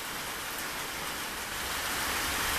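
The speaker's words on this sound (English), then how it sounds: "Lots of rain." Dense, steady rainfall pours down in a continuous loud hiss, with no voices and no breaks.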